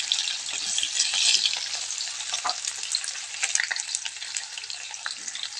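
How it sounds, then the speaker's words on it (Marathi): Onion fries in hot oil with crackled mustard seeds and cumin for a dry spinach dish, a loud, dense, continuous sizzle with faint scraping, and no voices. "कांदा छान तळून घ्यायचा आहे."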